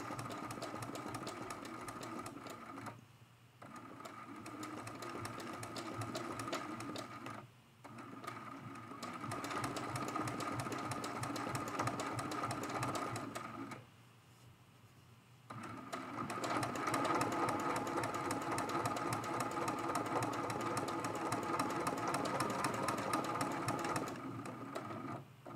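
A sewing machine stitching a hummingbird mosaic art quilt, steady rapid mechanical whirring in long runs broken by three short pauses, close and even in level.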